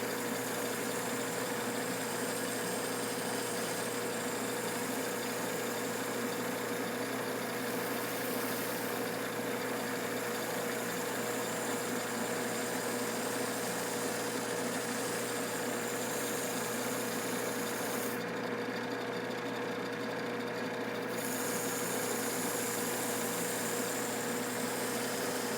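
A motorized buffing wheel runs at a steady, unbroken mechanical hum while a knife blade is sharpened against it, close and continuous with no talking.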